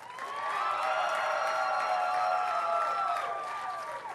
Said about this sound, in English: how about another nice round of applause for our 2 finalists?